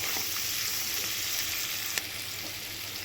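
Ingredients for Bengali-style khichdi fry in a pan until browned, giving a close, continuous crackling sizzle at an even level, broken by a couple of small clicks from a utensil against the pan.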